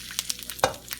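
Cauliflower pieces drop into hot ghee in a pan, giving a brief close crackling sizzle with scattered pops and a stronger burst near the middle of the moment.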